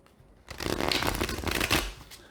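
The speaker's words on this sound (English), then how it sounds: "just one riffle for this deck" A single riffle shuffle of a tarot card deck, a quick fluttering rush of cards interleaving for about a second and a half, close and loud, ending in a soft settle.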